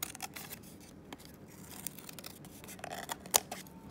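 Scissors snip nearby as a leaf shape is cut from paper, with a scattered series of quiet crisp blade clicks and rustles and one sharper snip near the end, with no talking.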